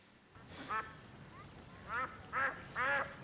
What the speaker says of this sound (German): Wie viele Enten schwimmen denn hier?